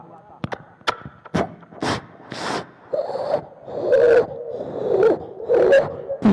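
A voice mimics a balloon being blown up with breathy puffs and rising squeaky tones, then a sharp pop-like burst from the mouth, with short percussive mouth clicks early on.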